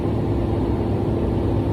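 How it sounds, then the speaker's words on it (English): A truck engine held at about 1200 to 1500 RPM during an in-cab CDL air brake check: a loud, steady low rumble without breaks. "Now I'm going to continue my RPMs revving at around 12 to 1500."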